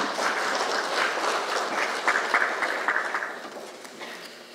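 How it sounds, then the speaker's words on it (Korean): Applause from lawmakers at a Democratic Party caucus general meeting in the Korean National Assembly, a steady wash of clapping that swells briefly in the middle and then tapers off. "박수 한 번 더 부탁드리겠습니다"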